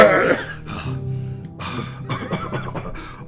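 A loud, close cough bursts out, followed by rough throaty noises and clearing sounds, with no other voices.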